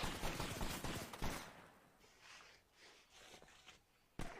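Gunfire in the ARMA 3 video game: a loud burst of rapid shots opens the passage, then several fainter, spaced shots ring out at a distance before a sharp close shot at the end.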